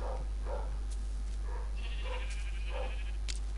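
Sheep bleating in the game Minecraft: a string of short, evenly spaced bleats over a steady low hum, with no one talking.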